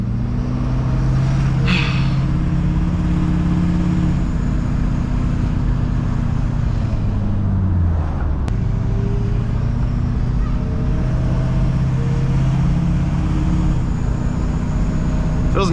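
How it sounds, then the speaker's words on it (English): Ford 6.4 Powerstroke diesel pickup with an automatic transmission driving along, a steady low engine drone that rises and falls with shifts and throttle, continuous and fairly loud throughout. "Feels nice driving an automatic truck."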